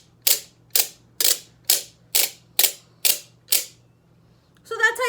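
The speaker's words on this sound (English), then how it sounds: "So that's how you play the cog rattle." A cog rattle is cranked in eight evenly spaced ratcheting bursts, crisp and close, each a short clattering rasp, followed by a brief different rattle at the end.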